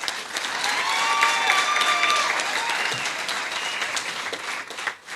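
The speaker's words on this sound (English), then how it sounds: "Let's applaud him, please." Audience at a community centre handover ceremony applauding an honoree, a crowd's sustained clapping with a few cheers and whistles, fading toward the end.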